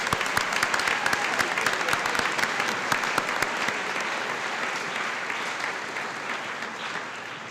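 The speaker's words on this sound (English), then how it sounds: "let's give these youngsters a hand of applause." An audience in a high school hall at an awards night applauds students, dense clapping that starts strong with sharp individual claps, then gradually thins and fades.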